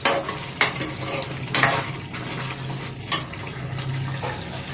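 Chicken frying with curry leaves in a pan, soft steady sizzle broken by several sharp scraping stirs of a utensil against the metal, close and fairly quiet.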